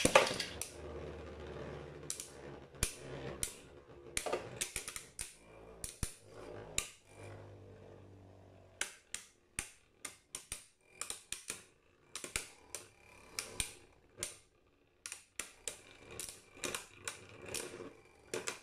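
Beigoma spinning tops battle in an arena: after a launch, dense rapid metallic clacks and clicks rattle close by, irregular and scattered, with quieter stretches between flurries of collisions, no voices.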